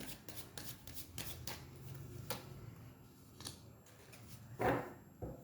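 Tarot cards shuffled and drawn by hand, a series of quick crisp card flicks and slides with one louder riffle near the end, close and faint with no talk.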